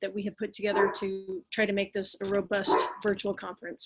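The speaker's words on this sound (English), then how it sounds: "I apologize for the neighbor barking dog." A neighbor's dog barks in the background while a person keeps talking steadily over it during an online conference keynote.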